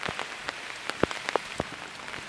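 Rain patters on an umbrella nearby, with scattered close drop impacts tapping irregularly over a soft, steady wash.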